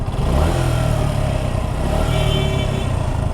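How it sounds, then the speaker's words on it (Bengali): A motorcycle engine idling close by, a steady low rumble with a rough, rattling texture throughout. "ইঞ্জিনের সাউন্ডটা ইঞ্জিনটা মনে হচ্ছে যে ঝরঝর ঝরঝর একটা সাউন্ড চলে আসছে"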